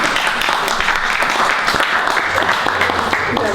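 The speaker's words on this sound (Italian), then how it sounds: "Allora applaudiamola subito." An audience applauds steadily at an evening history lecture in Venice, dense clapping continuing at an even level throughout, with faint talk mixed underneath.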